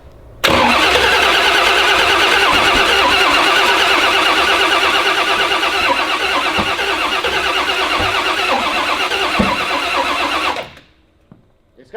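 Engine cranking steadily without catching, a continuous loud, close starter churn lasting about ten seconds and then stopping, the car suffering from very low fuel pressure.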